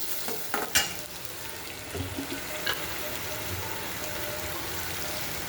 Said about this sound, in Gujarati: આ બધું નાખી દઈશું, સરસ મસ્ત ચડવા દેવાનું